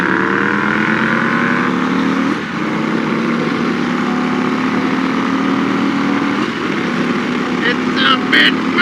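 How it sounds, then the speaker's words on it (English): Cammed Indian Chief Bobber Dark Horse motorcycle engine pulling hard through the gears, a loud continuous rumbling drone with steady pitch shifts, mixed with wind and road noise while a rider's voice is mixed in. "Riding a cammed bike."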